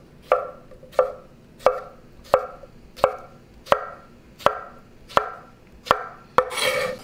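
A knife chops a cucumber into small cubes on a cutting board, about ten crisp, evenly spaced strikes, loud and close, ending in a brief scraping rustle.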